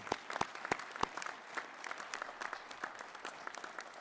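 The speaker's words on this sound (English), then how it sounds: "For all the graduates, let's provide a round of applause." A crowd at a university graduation hooding ceremony claps in a burst of applause, a few sharp individual claps standing out at first before the clapping settles into a steady, moderately loud patter.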